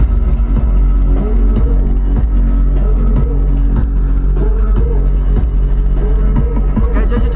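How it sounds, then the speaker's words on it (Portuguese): Loud Arabic-style music with a heavy pounding bass beat booms from the sound system of a Polo Sedan, playing continuously and densely with steady rhythmic thumps filling the car. "Olha essa musiquinha da Arábia. Vai ter uma batidão, mano."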